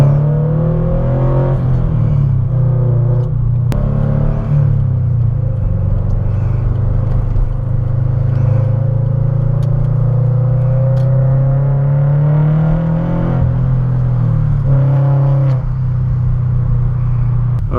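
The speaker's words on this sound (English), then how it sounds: "I'll try to do a couple accelerations on the way back." A tuned Subaru BRZ with a JDL header drones from the cabin as it accelerates, a low, steady engine hum that rises and swells in pitch and stays loud and continuous.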